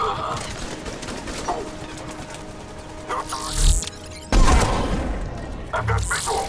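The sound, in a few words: sniper rifle fire in the video game Mass Effect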